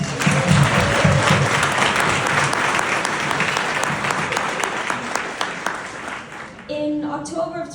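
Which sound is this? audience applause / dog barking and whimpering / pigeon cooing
audience applause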